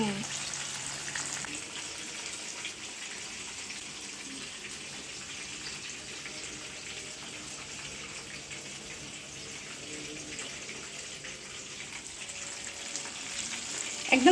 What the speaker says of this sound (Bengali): এইভাবে আমরা ক্রিস্পি ক্রিস্পি করে ভেজে নেব